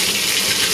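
Water gushes steadily from a hotel shower in Bangkok just after being turned on, a loud, continuous hiss of spray with no voices.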